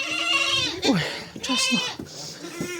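Several pregnant goats bleat close by, wavering nasal cries in quick succession, overlapping one another with a few short calls near the end.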